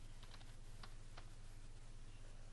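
Faint, close key taps on a computer keyboard as a line of Python code is entered, a handful of light irregular clicks over a steady low hum, with no voice.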